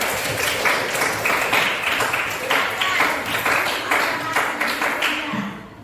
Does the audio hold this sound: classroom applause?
yes